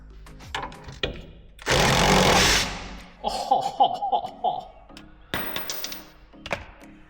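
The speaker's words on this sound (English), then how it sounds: "I think I'm going to try an impact gun the anti-roll bar link first" An impact gun works at a rusty anti-roll bar link on a Land Rover Freelander, giving one loud, sustained burst of about a second under scattered metallic clunks and knocks.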